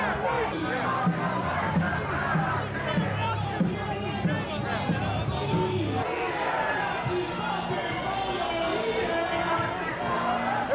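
A large crowd of protesters shouts and chatters in a dense, continuous roar, with raised voices and cries rising out of the babble throughout.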